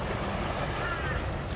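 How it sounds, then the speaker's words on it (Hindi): Steady rushing water of the Brisbane River flowing fast past private boats, a continuous broad wash mixed with wind buffeting the microphone, no breaks or distinct splashes. "पानी की रफ़्तार थोड़ी तेज़ हो रही है दरिया में"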